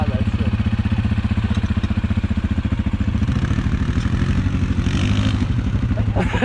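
Quad ATV engine revving hard during a wheelie attempt on a muddy outing, a loud close rhythmic engine pulse that rises in pitch and intensity midway.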